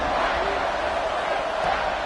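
A football stadium crowd roars after a big third-down play, a dense, loud, sustained wash of cheering voices from all around, with no pause.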